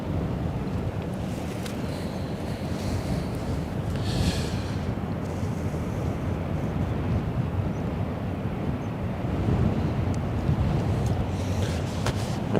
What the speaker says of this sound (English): there's quite a bit of wind actually